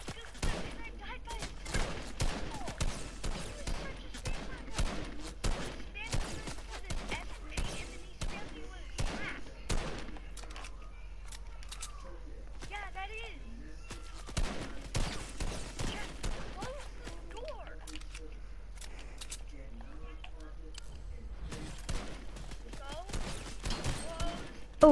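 Gunfire in Fortnite, scattered sharp shots and short bursts throughout, some close and loud, others fainter, with players talking over the action at times.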